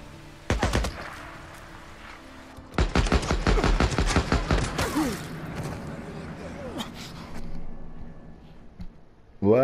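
Bursts of rapid gunfire from Days Gone, with a couple of short volleys early and then a long, dense stretch of shots. Ricochets and echoes follow, and a voice speaks briefly in the background.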